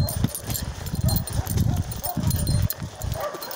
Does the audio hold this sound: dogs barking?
yes